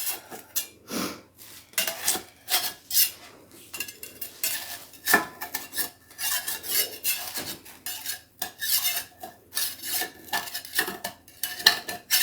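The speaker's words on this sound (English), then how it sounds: "So you want to loosen around the edges and hope to God your butter did its job." Metal utensil scraping and clinking around the edges of a buttered baking pan holding popovers, in irregular close bursts of rasping and tapping with no talking.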